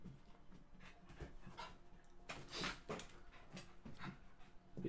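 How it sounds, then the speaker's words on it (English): A dog pants in quick, soft, steady breaths close by, with faint rustling of a plastic carrier bag and brief whimpers, quiet overall and with no talk. "thought I heard my dog rustling"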